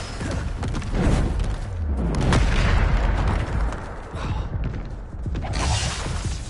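Bombarda spell explosions in a PS5 video game: loud, close booming blasts follow one another almost without pause, with heavy low rumble and crackling bursts over a dense, continuous wall of game noise.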